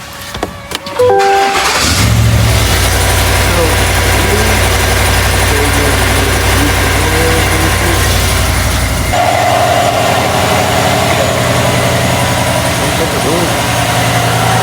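A car engine cranks and starts, then settles into a loud, steady idle that continues throughout, with a slight shift in tone partway through.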